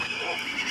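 A horse in the video game Minecraft neighs in a brief, loud, close whinny with a wavering pitch, overlapping a speaking voice.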